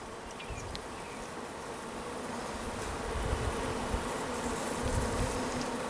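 Honey bees buzzing around an opened beehive during a hive inspection: a continuous dense drone of many wings, close and steady, swelling slightly louder toward the end, no speech.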